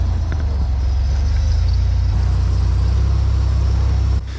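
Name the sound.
Can-Am side-by-side driving down the beach in Sand Hollow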